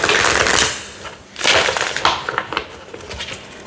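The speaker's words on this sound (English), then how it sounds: "I'll do one shuffle on this first." A deck of oracle cards is shuffled in a few close, crisp bursts of riffling and flicking paper, with no one talking.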